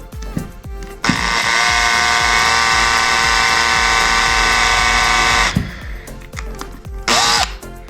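A power drill bores a shallow pilot hole into a wall to start the screws for a radiator shelf bracket, whining loudly and steadily for several seconds after brief handling noises, then stopping with a short final burst.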